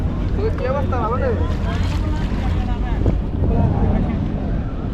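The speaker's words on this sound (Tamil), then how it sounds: "எப்படி போட்லாம் போகுது வருது" Boats motoring past on the water near Villimalé, a local island by Malé in the Maldives, a steady engine drone mixed with wind buffeting the microphone and a brief voice partway through.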